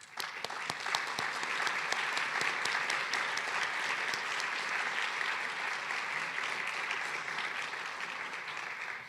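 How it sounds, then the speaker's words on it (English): An audience at an alumni chapter afternoon event applauds its board members, steady, full clapping from a sizable room that holds evenly throughout without talk. "Would the board members please stand so we can give them a round of applause"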